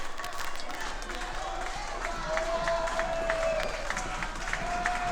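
A crowd at a professional wrestling championship match keeps up a steady roar of cheering and clapping, with a few whistles rising over it, while a commentator's voice runs underneath.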